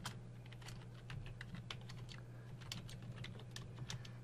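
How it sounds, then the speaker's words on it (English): Someone types on a computer keyboard while writing HTML code, a quiet, steady patter of soft individual keystrokes with no voices. "I'm going to type what I want the text to read before my hyperlink."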